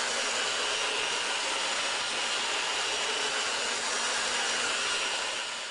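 A polisher with a 4-inch pad working a plastic headlight lens, a continuous whirring motor drone with a rough abrasive hiss, steady and close.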